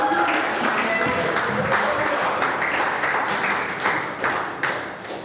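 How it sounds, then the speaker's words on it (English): A crowd applauds at a junior sports championship, a dense, steady round of clapping that holds loud and close before thinning and fading toward the end, with a voice talking over it. "Let's have a round of applause."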